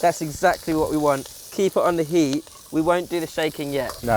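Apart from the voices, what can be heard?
aromatics sizzling in hot wok oil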